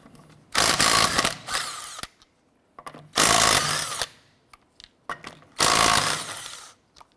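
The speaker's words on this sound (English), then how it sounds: "let's go ahead and remove our lug nuts" A power tool with a 19mm socket removes the lug nuts from a rear wheel of a 2006-2013 Chevrolet Impala. It gives three loud, close bursts of rattling whir, each lasting about a second, with clinks and pauses between them.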